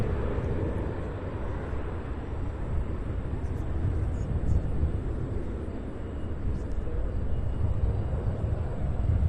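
An airliner takes off at Cincinnati's CVG airport, a steady broad jet roar that holds at a fairly even loudness throughout with no clear rise or fade.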